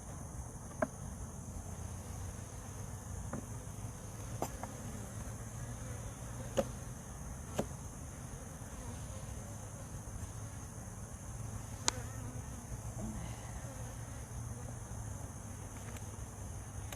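Honey bees buzz around a hive with a low, continuous droning hum that holds steady throughout, broken only by a few faint scattered clicks.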